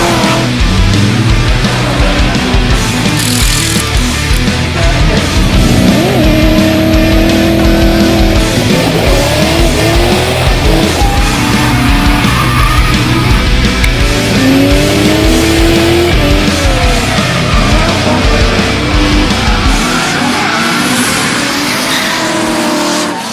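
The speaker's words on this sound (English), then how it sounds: "driving the Achilles Radial Drift Team RX-7" A Mazda RX-7 drift car on Achilles Radial tyres runs hard at Ruapuna Park Raceway in Christchurch. The engine screams and revs loudly and continuously, with tyre squeal, then drops to a quieter tone near the end.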